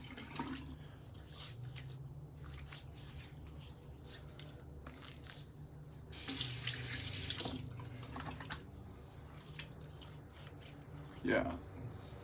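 Tap water runs steadily into a sink for a rinse, a continuous splashing wash with a louder gush partway through and a few faint clatters.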